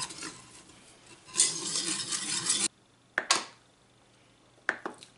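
Cornstarch being stirred into melted butter inside a Cookeo multicooker pot, a scraping utensil sweep for a second or two, then a pause and a few sharp clinks and scrapes against the metal bowl.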